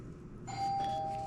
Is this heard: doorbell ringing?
yes